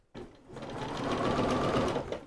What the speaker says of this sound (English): So one more line of stitching going all the way around to flatten this out.